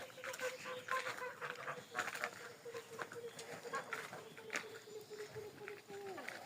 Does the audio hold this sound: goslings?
yes